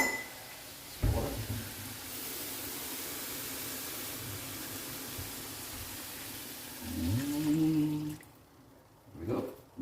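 Water poured into a pot of pea and potato curry makes a continuous, even hiss-like rush lasting several seconds, with a brief voice near the end.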